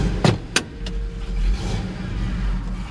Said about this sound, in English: You guys can hear the sewing machine, which is this truck.